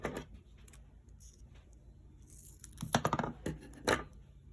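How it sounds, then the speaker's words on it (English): Foam tape is handled, peeled and pressed into place while decorating a mason jar, giving soft scratchy rustles and a few sharp crackling tears near the middle and end, quiet and close with no talking. "I'm gonna use some of this foam tape."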